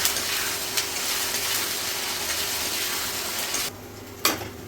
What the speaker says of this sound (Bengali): তো এই দেখো পেঁয়াজটা ভালো করে ভাজিয়ে নিচ্ছি, আর এই যেটা জিরা আদা বাটা আছে এগুলো দিয়ে দিলাম সব, আবার একটু ভাজবো